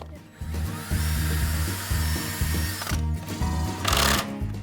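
Power drill driving a screw into the end of a tube for a homemade musical tube project: several short whirring bursts with pauses between them, close and fairly loud, no talk.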